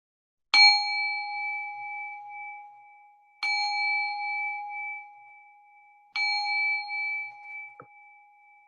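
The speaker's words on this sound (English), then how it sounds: "I'm going to go ahead and ring the bell to close our session now." A meditation bell struck three times at a slow, even pace, each clear ringing tone sustaining and fading before the next strike, with a faint soft knock near the end and otherwise quiet surroundings.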